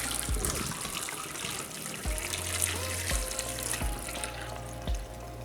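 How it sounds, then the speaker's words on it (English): Hot water from a pot is poured into a kitchen sink, giving a steady rushing, splashing wash throughout with a few low knocks from the pot. "We're just gonna pour the water out."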